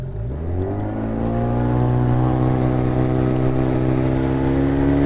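A fishing motorboat's outboard engine starts and revs up, the pitch climbing steadily into a loud, sustained drone as the boat speeds off, close and with no talk over it.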